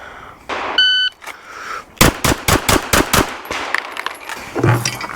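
Pistol shots ring out at a live-fire shooting drill, a rapid string of about seven sharp, loud cracks after a timer beep, followed by metallic clanging of rounds striking steel.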